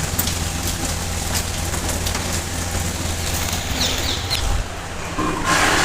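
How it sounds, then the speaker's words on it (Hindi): Rain falls outside, heard as a loud, steady broadband hiss with a low rumbling undertone. It continues without a break for several seconds and no one speaks. "और बाहर बारिश आ रही है"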